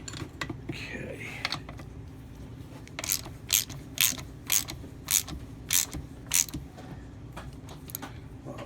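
A hand ratchet snugging bolts on a Kawasaki KE100 engine case: a run of about nine crisp, evenly spaced ratcheting clicks close up over low background noise.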